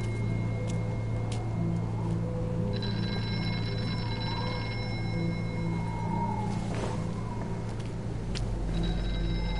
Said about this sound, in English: it's the payphone